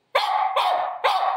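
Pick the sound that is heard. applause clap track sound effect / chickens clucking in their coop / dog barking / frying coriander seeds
dog barking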